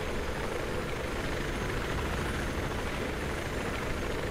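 A helicopter in the Battlefield 3 video game on the Caspian Border map approaches, a steady dense rotor and engine rumble holding at an even moderate level throughout with no talk over it.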